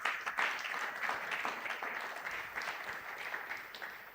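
A church congregation at a Sunday worship and thanksgiving service applauds in a dense, steady burst of clapping that carries on throughout, slightly distant and roomy.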